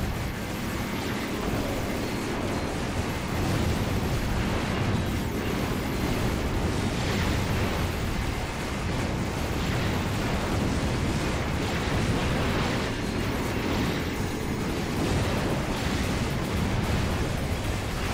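Missiles exploding in the video game Ratchet Deadlocked make a dense, continuous roar of blasts and rumble that stays loud and steady throughout, with no pauses.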